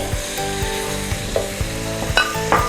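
Chicken frying in a pan with garlic paste, a steady close sizzle under repeated stirring scrapes and soft knocks of a spoon against the pan, no voices.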